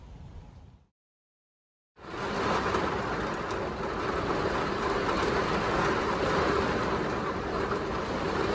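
Steady broadband rain drumming on a tent pitched at a campsite in Mablethorpe during a storm, a dense continuous hiss that starts abruptly after a brief silence and holds loud and even throughout.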